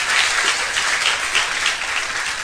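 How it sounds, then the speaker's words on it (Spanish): A church congregation applauds, a dense, steady wash of clapping that fills the whole moment with no voices over it. "Le hago un aplauso al Rey"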